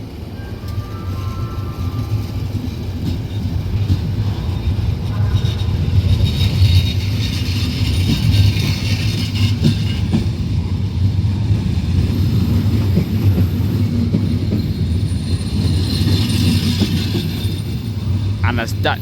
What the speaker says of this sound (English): as this departs, now this is going to be the final train in this video